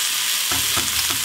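Bacon frying crispy in a pan, a dense bright sizzle with a few quick stirring scrapes over about a second, close and loud with no speech.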